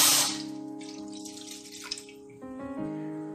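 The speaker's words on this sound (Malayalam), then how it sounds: "അതിലേക്ക് നമുക്ക് ഒരു ഗ്ലാസ് വെള്ളം ഒഴിച്ചു കൊടുക്കാം." Water poured from a glass into a small pan on the stove, a short steady splashing stream that changes pitch as the pan fills, close and alone.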